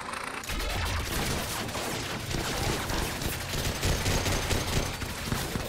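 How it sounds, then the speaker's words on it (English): Video game gunfire in Mass Effect 3 as C-Sec officers shoot: dense, rapid bursts of shots and impacts that start abruptly and keep going loud and close for several seconds, with no one speaking. "Why is C-Sec shooting at me?"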